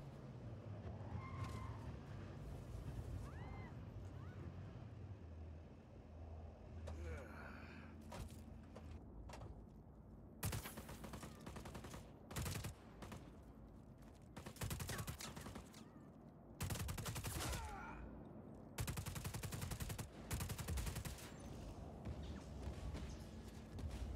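Bursts of gunfire in the open-world action game Just Cause 4, with rapid automatic volleys breaking out repeatedly between quieter stretches of engine and ambient noise.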